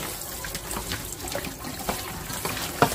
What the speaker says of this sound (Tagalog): hayaan lang natin munang mag-drain ang tubig dyan